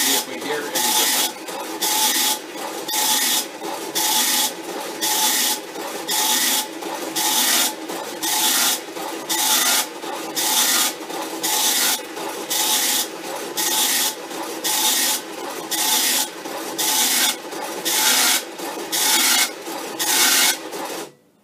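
A Commodore PET tractor feed dot-matrix printer runs a character loop, giving a steady series of rasping, buzzing print-head passes in a regular rhythm, loud and close, with short pauses between lines and no talk.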